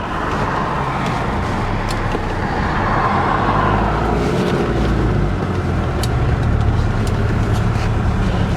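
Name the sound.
1983 Mercedes 240D diesel engine accelerating at full throttle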